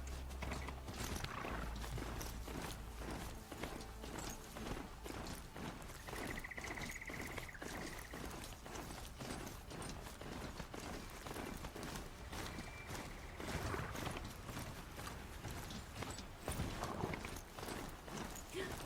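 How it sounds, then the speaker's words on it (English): A mount in the video game Horizon Zero Dawn runs at pace, its hooves drumming in a rapid, steady clip-clop rhythm that continues throughout at moderate loudness, with a couple of brief tonal cues over it. "Okay, now we'll call our horse."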